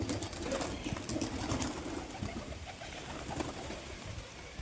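Domestic pigeons cooing steadily at close range, a soft continuous murmur of low calls with some rustling.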